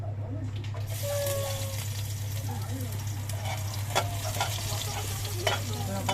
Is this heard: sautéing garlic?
yes